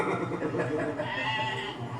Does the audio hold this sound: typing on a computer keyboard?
no